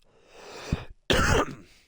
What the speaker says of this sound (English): I coughed right into the microphone.